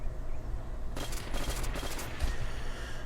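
Bursts of rapid gunfire in an online shooter video game, a steady clatter of close shots that breaks out suddenly and keeps going for a couple of seconds, with no talking.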